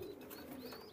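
Pigeons coo softly at a pigeon farm, a faint low murmur of cooing with some distant chirps over a quiet background.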